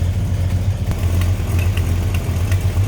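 A 1968 Plymouth Roadrunner's high-performance 383 V8 idles close up, a loud, steady low rumble with a lumpy, throbbing pulse and faint ticking above it, no voices.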